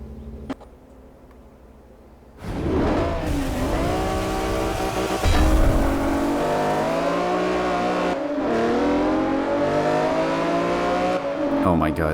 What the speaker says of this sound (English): this is the battle of like the two best sounding engines in the game, that V10 and this 12 cylinder